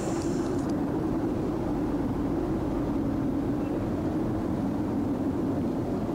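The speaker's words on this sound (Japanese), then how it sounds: "夜の機内はこんな感じです。" Steady, loud low drone inside an airplane cabin during a night flight, an unbroken engine and air rumble with a faint brief tone at the very start.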